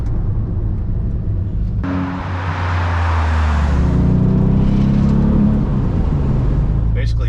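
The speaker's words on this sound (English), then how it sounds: "So get up to speed here and hit the brakes." A Porsche 911 Turbo engine roars loudly and steadily, rising in pitch as it speeds up, then settles lower as it brakes hard, with road noise throughout.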